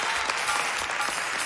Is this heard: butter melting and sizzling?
no